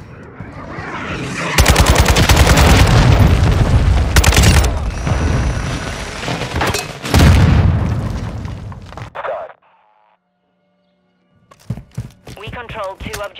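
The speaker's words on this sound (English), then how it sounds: "Friendly cruise missile approaching target." A cruise missile strike in Modern Warfare 2 lands as heavy, loud booms layered with bursts of gunfire, two big blasts a few seconds apart, then a brief silence before sharp scattered shots and voices return.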